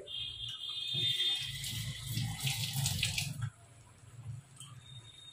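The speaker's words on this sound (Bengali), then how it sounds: "এবার আমি জল দিয়ে দেবো" Water pours into a cooking pan of spiced fish curry with fried potatoes, a splashing gush for a few seconds that cuts off into quieter simmering.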